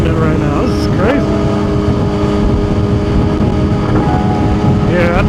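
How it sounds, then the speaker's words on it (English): Heavy wind roars constantly against a motorcycle helmet while riding in a city, with an engine drone underneath and someone talking over the steady buffeting. "Not with the wind this crazy."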